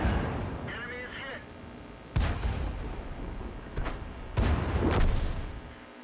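A tank cannon firing in World of Tanks from the Ram II: two loud booming shots several seconds apart with sharp cracks and rumbling decay, plus smaller impacts, under game ambience and a speaking voice.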